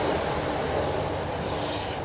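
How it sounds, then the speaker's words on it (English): A train passes close by, a loud, continuous, steady rumble of rail noise with wheel roar that holds at the same level for the whole stretch. "trains just go past."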